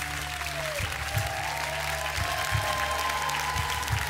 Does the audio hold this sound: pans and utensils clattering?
no